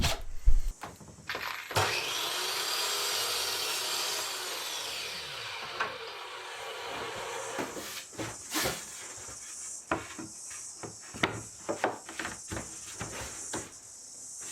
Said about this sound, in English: just to then be able to cut the cross beam that's got to go on this